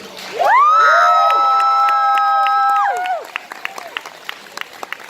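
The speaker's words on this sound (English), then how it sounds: "Can we give a round of applause for our first place winner, Helen the Forest Lady." A cosplay competition crowd erupts with a loud sustained cheer and whooping for the first place winner, then scattered clapping continues more faintly.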